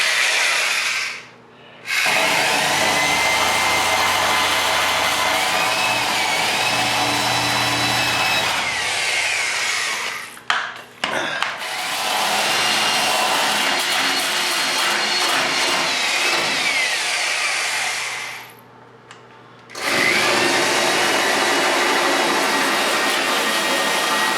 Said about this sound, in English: So first off, we'll wire wheel it off the best we can.